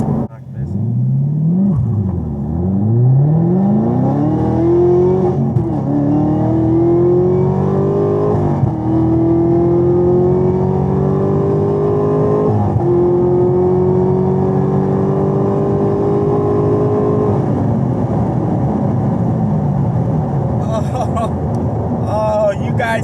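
A Camaro ZL1 with a manual transmission launches hard, its engine roaring close and loud as revs climb through several rising sweeps with brief breaks between gears, then fading as the car pulls away; voices talk faintly at the end.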